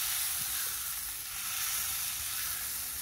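Thin smash burgers sizzle on a Big Green Egg grill with a steady, bright hiss and crackle, close and continuous, with no talking.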